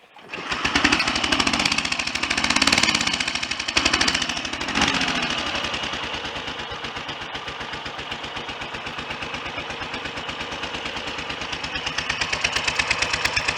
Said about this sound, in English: I've got a nice fairly reliable 1000 RPM tick over on the centre cylinder